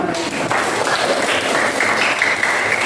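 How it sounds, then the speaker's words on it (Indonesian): A class applauds for Rehan in a classroom, a steady wash of clapping from many hands lasting the whole stretch at even loudness, with no talk over it. "Tepuk tangan buat Rehan."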